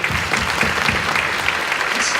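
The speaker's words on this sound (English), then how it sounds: "Buck, Pat, and Frank deserve a round of applause for that" Brief burst of audience applause for three people at an alumni gathering, a steady, moderately loud patter of many hands.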